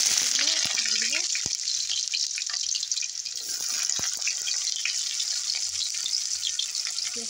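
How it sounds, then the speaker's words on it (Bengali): Chopped onions sizzle in hot oil with a constant hissing fry, close and steady, plus a few sharp clicks and a brief faint voice early on. "পেঁয়াজ কুচি দিয়ে দিলাম"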